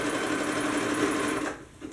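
A sewing machine runs a zigzag stitch on slippery, silky spandex, whirring steadily and up close, then stopping near the end.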